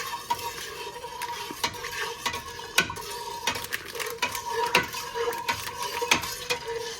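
Lemon juice and SureJell being stirred into dandelion juice in a pot over a fire, repeated clinks and scrapes of a spoon against the metal pot in an uneven rhythm, close and clear, no talking.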